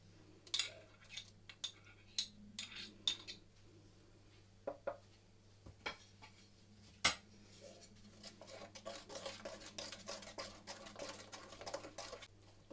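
Eggs, oil and zest being mixed in a bowl for a pear cake: faint, sparse clicks of a utensil against the bowl at first, building into quicker, denser tapping whisking toward the end.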